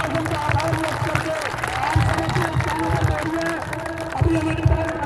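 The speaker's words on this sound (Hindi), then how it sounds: "एक बार जोरदार तालियों से प्रशासन का आभार व्यक्त करके" A large crowd at an outdoor protest rally applauds to thank visiting officials, the clapping dense and steady beneath overlapping voices and crowd noise throughout.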